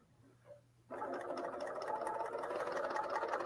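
A serger sewing machine starts up after a brief quiet moment and runs steadily, sewing a fabric strip with a close, continuous whirring hum and rapid mechanical chatter.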